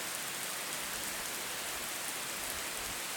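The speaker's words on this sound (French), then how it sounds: "ce gros orage pleut quand même fort" Heavy rain from a thunderstorm pours steadily outdoors, a dense, even hiss with no breaks, at moderate volume and without voices.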